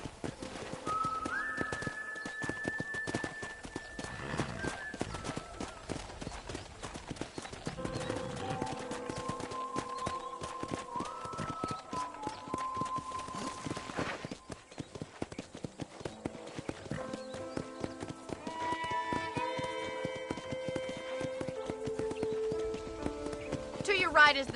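Steady horse hoof clip-clops from Red Dead Redemption play continuously throughout, with tonal melodic music and whistle-like notes layered on top.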